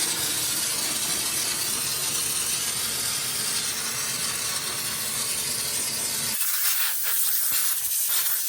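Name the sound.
parts washer cleaning a differential carrier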